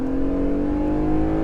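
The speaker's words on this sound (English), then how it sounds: "I will do it at 0 to 60, and the Jeep Gladiator, the Mojave version of it with the V6 engine, does 0 to 60" A Jeep Gladiator Mojave with a V6 engine accelerates from 0 to 60 with a bit of wheel spin, a steady, loud engine drone holding one strong pitch with no break.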